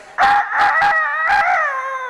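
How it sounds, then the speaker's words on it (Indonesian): A rooster crows loudly and close by, a single long call with several rising and falling pulses, heard alone with no talk. "Lah jago."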